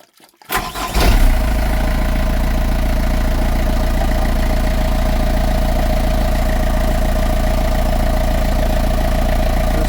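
A boat engine is running during an antifreeze flush for winterizing, its exhaust discharging into a bucket. It starts with a short cranking burst, then settles into a loud, steady idle that holds for the rest of the clip with no talking.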